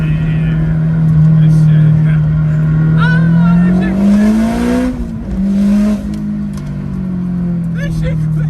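Turbocharged 500HP Honda S2000 accelerating at part throttle, a loud steady engine drone rising and dipping through a shift, heard from inside the car with people talking briefly.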